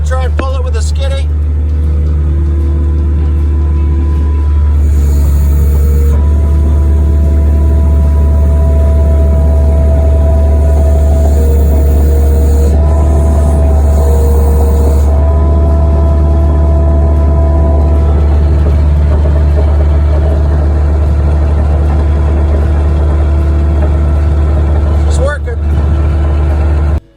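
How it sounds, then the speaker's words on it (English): A skid steer's engine drones loudly and steadily while it pulls the rear buggy spring from a 1932 Model A Ford, a constant close rumble running throughout with some voices underneath. "Alright, we're gonna try and pull it with a skiddy."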